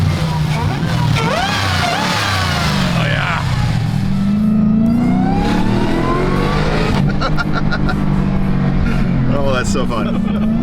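A Jeep Gladiator Mojave fitted with a Demon V8 revs hard, the engine pitch sweeping up and down through repeated loud surges with tire noise from a struggle for traction, very close, and a voice briefly calls out over it.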